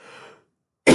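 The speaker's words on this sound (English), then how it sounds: "Got this cough." A man coughs once, sharp and close, right after a short stretch of trailing breathy sound and a moment of silence.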